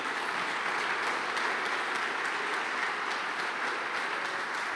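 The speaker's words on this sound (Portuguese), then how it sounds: "Pode aplaudir a Jesus." Congregation applauding in a Quadrangular church service, a dense, steady wash of many hands clapping at even loudness throughout, with no talk over it.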